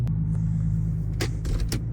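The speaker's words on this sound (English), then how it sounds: "We're gonna let the car warm up a little bit before we go" A car's engine idles steadily while warming up, a low constant rumble near at hand, with a few brief clicks and knocks from the car's interior or door over it.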